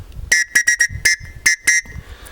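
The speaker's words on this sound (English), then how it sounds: "Tops threw in a whistle." A shrill plastic safety whistle blown in a quick series of short, sharp blasts, some longer, loud and close, with brief gaps between them.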